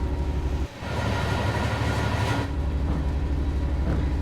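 A heavy diesel freight locomotive, a type nicknamed the Shed, rumbles past close by with a loud, continuous engine drone and wagon noise that stays steady throughout.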